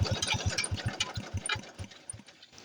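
A Briggs and Stratton opposed-twin engine with a heavy flywheel from a hit-and-miss design runs with rapid, even thumping pulses, close and fairly faint, without speech.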